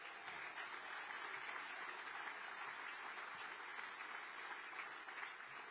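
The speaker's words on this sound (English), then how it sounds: "you can clap for that" Crowd at a Reform UK party conference in Chester claps steadily in a big venue, a continuous, fairly distant wash of applause with no breaks.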